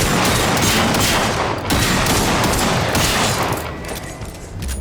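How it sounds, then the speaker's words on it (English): Shotgun blasts in the Generation Zero video game, a dense barrage of loud gunfire that stays sustained and heavy across the whole stretch with only brief dips, no talking. "Using the shotgun"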